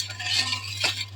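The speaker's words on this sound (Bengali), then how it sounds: "পানির সাথে চিনিটা ভালোভাবে মিশিয়ে নেব।" Sugar and water are stirred in a wok for peanut brittle: two quick, faint scraping strokes over a low, steady background hum.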